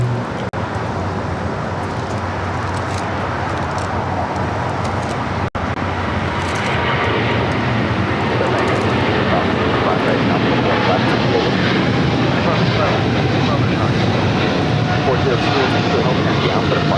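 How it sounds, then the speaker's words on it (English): A China Airlines Cargo Boeing 777 freighter takes off from LAX, its powerful jet roar building steadily and staying loud and near, with a voice talking over it. "This is China Airlines Cargo 5382 taking off to Miami, Florida on a 777 freighter."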